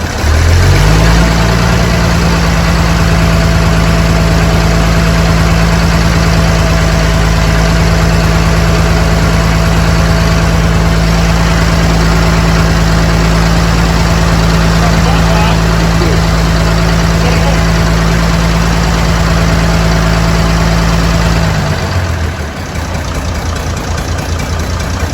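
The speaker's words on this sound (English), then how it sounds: "Rev it up and leave it revving a bit." Tractor engine held at a steady raised rev, a loud, continuous low droning roar that runs for about twenty seconds before dropping off, with voices talking over it.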